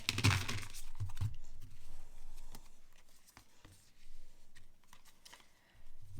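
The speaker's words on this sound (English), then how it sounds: "give a quick shuffle to the Animal Spirit Oracle" An Animal Spirit Oracle card deck being shuffled by hand, close and fairly quiet, with a burst of fluttering card riffles at first and then scattered soft slaps and rustles, no talking.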